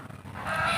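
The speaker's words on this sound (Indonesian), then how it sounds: "kembali lagi terdengar suara ayam yang berkokok" A rooster crows at night, a single drawn-out call that rises in strength and holds through the end, heard alone without talk.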